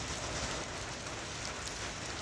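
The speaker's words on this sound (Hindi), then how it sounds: "देखते ही देखते बारिश एकदम तेज होगी" Rain falls in Shimla as a constant, dense, fairly loud hiss of drops on surfaces, steady and unbroken for the whole short stretch with no voices.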